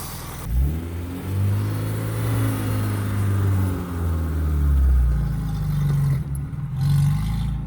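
A 1987 Suzuki Samurai engine starts up and revs through several rising and falling pulls, loud and close, settling toward idle near the end.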